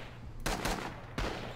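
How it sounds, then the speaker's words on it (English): Close artillery fire in the video game Rising Storm 2, heard as two heavy, sharp blasts about three-quarters of a second apart over a steady background din. "It's some close artillery"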